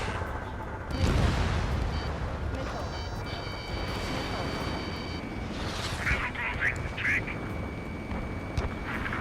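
Bombs dropped from a combat jet burst on ground targets in the Ace Combat 7 air-combat game: a heavy blast near the start, then further booming impacts mixed with jet roar, radio chatter and alert tones.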